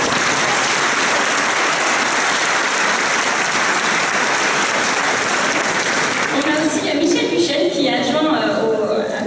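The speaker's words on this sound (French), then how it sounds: "on va vous applaudir également" A packed audience at an opening conference plenary gives sustained, loud applause that thins out near the end as a voice begins speaking over it.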